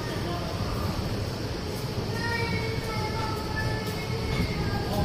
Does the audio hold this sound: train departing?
yes